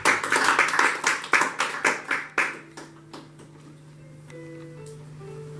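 A church congregation claps in a steady rhythm to acclaim the Lord, about a dozen loud, even claps that stop after roughly two seconds, followed by a faint tone-like hum and quiet room sound.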